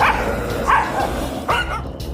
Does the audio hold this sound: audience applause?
no